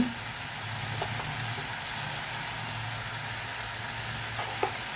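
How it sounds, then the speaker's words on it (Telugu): Drumstick (moringa) leaves curry frying in a pan with salt, chilli powder and turmeric, a steady close sizzle and crackle running throughout with a couple of faint stirring clicks. "దీన్ని ఇప్పుడు శుభ్రంగా వేపుకోవాలండి."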